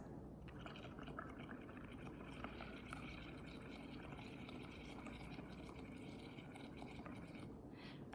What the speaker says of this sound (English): put your straw into your paint and blow in gently